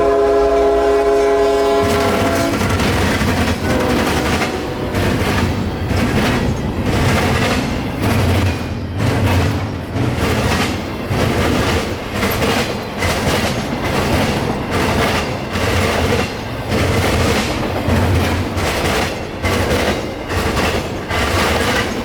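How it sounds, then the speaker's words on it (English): A freight stack train hauling containers, northbound from Tampa's Uceda Yard to Jacksonville, blasts its horn with sustained chords, then thunders past loud and close with rhythmic wheel clatter and heavy rumble. "First one to come on this outing was QO46, our nightly stack train out of Uceda Yard in Tampa,"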